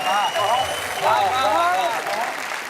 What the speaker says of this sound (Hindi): बजाओ मिलकर ताली